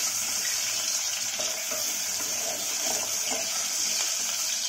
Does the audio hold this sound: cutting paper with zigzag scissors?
no